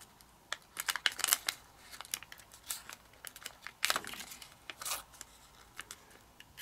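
Paper crinkling and creasing as origami paper is folded into a jumping jack-o-lantern, with close, irregular bursts of crisp rustles and sharp creases, repeated folding strokes and short quiet gaps.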